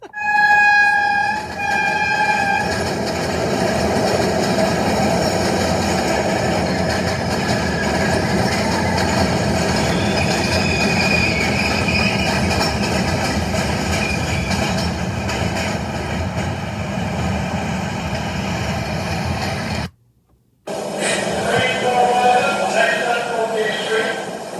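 A New York MTA downtown local 6 subway train roars steadily past at close range in a station, a sustained loud rumble with a short break near the end before the noise resumes.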